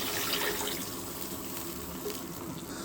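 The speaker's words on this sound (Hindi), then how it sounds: "अब हम इसमें 6 गिलास पानी के डालते हैं।" Water poured into a cooking pot for chicken pulao gives a continuous, fairly close gushing fill, like a tap or glass emptying, with a steady broadband rush and no talking.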